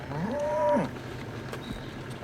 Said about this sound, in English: Cattle are a sure sign that the village is nearby.